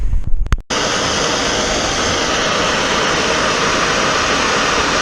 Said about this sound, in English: we're going to try to see if 45 pounds of air in this pipe is enough to do the job